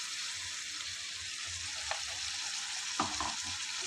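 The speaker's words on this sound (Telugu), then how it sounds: "ఇప్పుడు ఇది అనేది ఆయిల్లో మంచిగా టమాటాలు ఫ్రై అవ్వాలి" Tomato paste frying in oil for egg curry, a steady soft sizzle with occasional scraping stir strokes close by, no talking.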